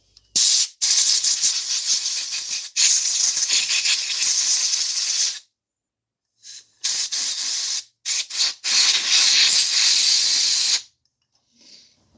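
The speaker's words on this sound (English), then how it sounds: "I'll just give this another blowout and then we'll put it back together." Compressed air hisses in long bursts as it blows out the carburettor of a Suzuki M120X two-stroke rover mower, close and loud, with brief silent gaps between several shorter blasts.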